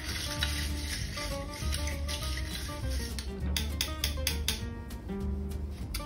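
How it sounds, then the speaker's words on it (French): A spoon stirs ice in a glass while a Moscow Mule is mixed, with clinking and scraping that repeats in quick strokes, close and fairly soft against a low background hiss. "Mélangez le tout avec une cuillère."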